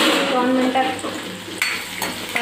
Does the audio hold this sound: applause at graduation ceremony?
no